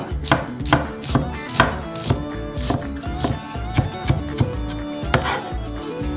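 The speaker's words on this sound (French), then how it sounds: "Hachez finement l'oignon rouge dans un mortier." A knife chops red onion finely on a board, sharp close thuds falling in an uneven but steady rhythm, loud and alone without talk.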